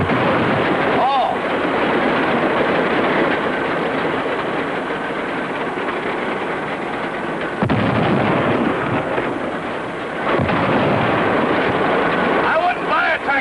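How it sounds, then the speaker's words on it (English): A loud, noisy 1930s tractor engine running, a continuous heavy rumbling roar close by that stays steady throughout, with a couple of brief surges and dips, and voices faintly mixed in. "I wouldn't buy a tractor that made so much noise"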